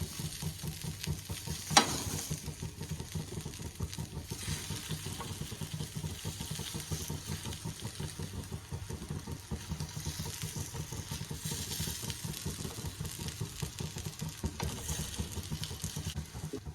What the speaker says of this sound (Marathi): आता आपल्याला ह्याला शॅलो फ्राय करायचं आहे